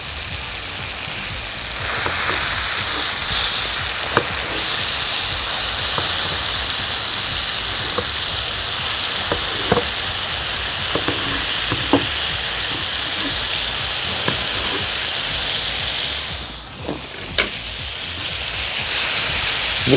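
Cut peaches sizzle steadily on the stove while grilling for a croissant sandwich, a constant hissing wash with scattered faint pops and clicks throughout, no voices.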